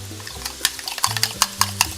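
A spoon scrapes and taps around a pan in steady strokes while thick Marsala sauce bubbles and sizzles underneath.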